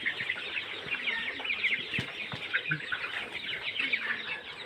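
Tiger-breed hens and roosters cluck and call steadily on a poultry farm in Anwara, Chattogram, a dense overlapping flock chatter at moderate distance with no talk over it.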